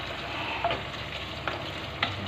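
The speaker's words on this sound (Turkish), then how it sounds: "Evet bunlar da 1-2 dakika kavruldu." Ground meat and tomato sauce sauté in a pan for okra stew, a soft steady sizzle broken by a few scraping stirs of the spoon, close up and with no talk.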